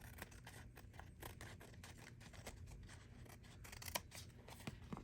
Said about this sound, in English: I'll cut this off, and I'll cut the napkin off.